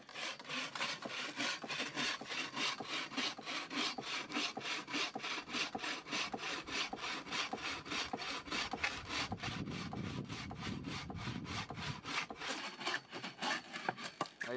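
A hand saw cuts through wood in rapid, regular back-and-forth strokes, a close, rasping scrape repeating steadily throughout with no talking.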